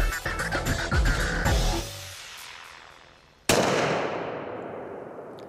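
Rifle shots ring out during a boar hunt in Hungary: a rapid cluster of sharp cracks at the start, then a lull with echoing decay, followed by one loud, close shot that reverberates away.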